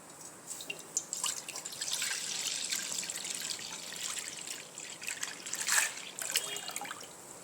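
Milk is poured into a pan holding a little water on a gas stove, a soft, quiet trickle and dribble of liquid with faint drips, heard close and alone.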